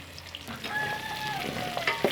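Carrots and onions sizzle in a pot for a roasted chicken stew, a steady close frying hiss with a faint whistling tone and light stirring clicks.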